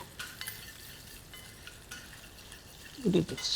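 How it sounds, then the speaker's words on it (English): Curry leaves, mustard seeds, ginger and green chili stirred in hot oil for a South Indian pachadi, giving a soft steady sizzle with light scraping, a louder clatter of the spoon near the end. "all you do is stir this together"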